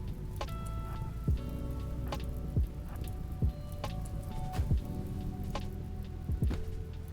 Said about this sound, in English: it's raining outside, which means we have to take care of it inside.